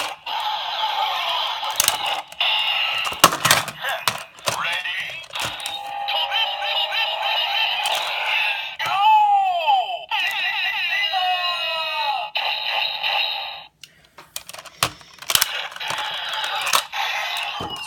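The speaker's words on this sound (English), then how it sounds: "When you hit the button again, you get the Scissors sound effect, and then of course the summoning." A DX Scissors and Blade Dial Fighter toy plays electronic sound effects and chimes in bursts, mixed with clicks and button presses, loud and close with a few brief gaps.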